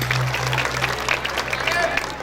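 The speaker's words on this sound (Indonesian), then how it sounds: "Tepuk tangan untuk semuanya." Audience applause and cheering at a Balinese bondres comedy performance during an arts appreciation week, steady clapping from a crowd with a low hum and some chatter mixed in.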